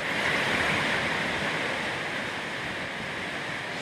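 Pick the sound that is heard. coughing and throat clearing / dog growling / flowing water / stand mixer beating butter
flowing water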